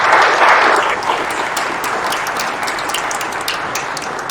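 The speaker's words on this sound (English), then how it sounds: "Another round of applause for everybody." A room of conference attendees breaks into a round of applause after a panel session, dense steady clapping that swells at the start and holds loud and even to the end.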